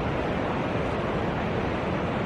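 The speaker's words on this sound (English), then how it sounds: "Do you know the waves go in the other direction here, Molly?" Pacific Ocean surf crashing on a beach beside the Hoh Rainforest, a loud continuous roar of breaking waves with some wind buffeting the microphone and no voices.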